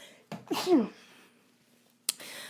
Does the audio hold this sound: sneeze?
yes